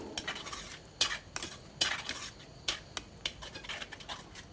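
Coconut halwa mixture with cornflour being stirred in a pan, giving a run of scraping, clinking utensil strokes in an irregular rhythm, close and fairly quiet.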